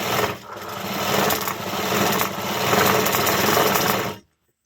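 Close, steady whirring of a sewing machine joining a main blouse piece to the piece beneath it runs continuously for about four seconds, then stops abruptly.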